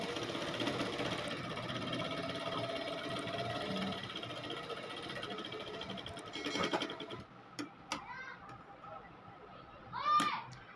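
A sewing machine stitches a sleeve cuff, running in a steady mechanical whir for several seconds before stopping, followed by a few brief, scattered sounds.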